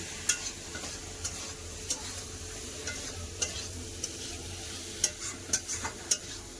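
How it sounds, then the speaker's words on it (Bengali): Ground spices and turmeric being stir-fried in a pan give a quiet, low hiss, broken by irregular scraping clicks of a spoon against the pan. "হলুদ গুঁড়ো ভালো করে সব কষে নেব"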